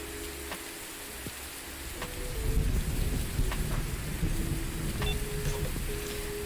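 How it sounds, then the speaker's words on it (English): Rain and thunder in a fishing video game: steady rainfall hisses throughout as a deep rumble of thunder swells partway through, and faint tonal game sounds sit underneath, with no speech. "I like when it rains in this game."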